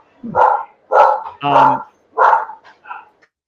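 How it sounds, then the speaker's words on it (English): A dog barks five times in quick, loud bursts, close by, with a short pause between each bark. "you know who is barking like crazy"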